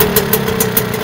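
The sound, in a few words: boat engine idling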